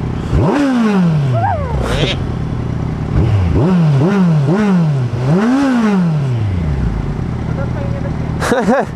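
A motorcycle engine revs repeatedly in rising and falling bursts, close and loud, with laughter mixed in.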